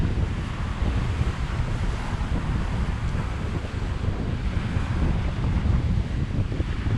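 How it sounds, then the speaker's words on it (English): Strong wind roars steadily over a bay at Magnolia Beach, Texas, at night, with surf washing continuously beneath the gusts, loud and unbroken throughout. "On our last night on the beach with Aaron and Tina, we experienced the strongest winds so far"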